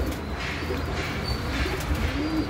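Soft pigeon coos murmur steadily through the background, a low continuous cooing from several birds at a pigeon sale, with no talking.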